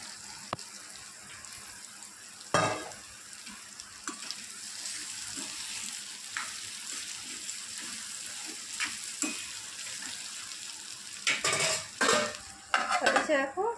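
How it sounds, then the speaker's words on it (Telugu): Spiny gourd fries in oil with a soft, steady sizzle, broken by occasional clinks and scrapes of a utensil against the pan that grow busier toward the end; no voices. "నూనెలో ఫ్రై చేసుకుంటా మస్తు ఉంటాయి ఫ్రెండ్స్ బోడ కాకరకాయలు."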